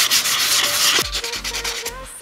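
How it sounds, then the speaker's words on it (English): Sandpaper rasps back and forth across an Iron Man forearm launcher prop in quick, rough strokes, close up, with a few dull knocks between strokes. "I'll continue to sand with higher and higher grades of sandpaper"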